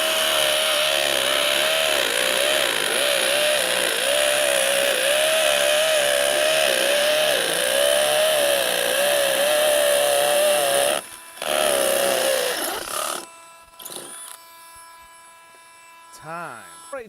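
A DeWalt Power Detect brushless hammer drill boring through tough material runs at a loud, steady high whine with slight wavering pitch, then cuts out abruptly and restarts briefly before stopping, leaving faint squeaky clatter behind.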